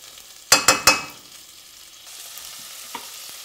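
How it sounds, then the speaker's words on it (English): Three quick, loud clattering stirs or scrapes open the clip as tofu with garlic and ginger sears in a pan over medium heat. A quieter steady sizzle follows, with one small clink near the end. "sear that on about medium heat"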